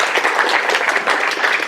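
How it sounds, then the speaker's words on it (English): Audience applause at a venture showcase bootcamp, a brief burst of many hands clapping densely and evenly, fairly close and full. "Another round of applause for Sample Earth."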